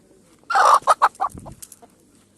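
Hens, one a naked-neck type and one an ordinary village hen, cluck close by in a quick burst of five or six loud notes, then a few fainter trailing clucks, with no talk over them.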